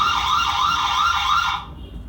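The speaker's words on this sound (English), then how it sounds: "That's the alarm going on" The alarm siren of a wireless light bulb security camera wails loudly and close by in a repeating rising-and-falling tone, then cuts off abruptly, leaving a short quiet tail.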